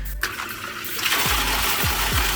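A Jeflike 1/3 HP submersible water pump switches on and sends water shooting upward, a steady rushing gush with a low motor hum close by, no talking.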